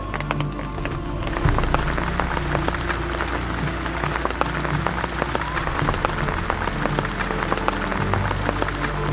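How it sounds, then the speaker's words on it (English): Steady rain falls at a riverside camp, a dense, continuous patter of drops on surfaces that starts a second in and holds close and fairly loud throughout, with a low rumble underneath. "the rain finally started"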